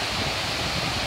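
A waterfall in San Gil sends a constant dense roar of falling water, loud and close, with no voices over it.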